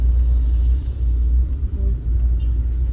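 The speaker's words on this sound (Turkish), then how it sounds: "Bunlar durmadı arkadan araba geliyor." A car on a street moves up behind pedestrians near a café, a low rumbling engine and road noise that continues steadily throughout while people talk over it.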